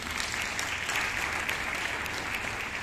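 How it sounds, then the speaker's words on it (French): Audience at an entrepreneurship conference applauding with dense, continuous clapping that stays loud and even throughout. "Est-ce qu'on peut applaudir pour le Seigneur?"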